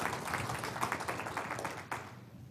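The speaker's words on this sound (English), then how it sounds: "All right, so quick round of applause for those 3," A short burst of audience applause at a safety and security summit, dense clapping that fades out after about two seconds.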